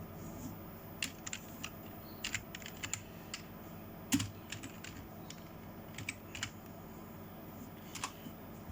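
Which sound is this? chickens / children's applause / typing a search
typing a search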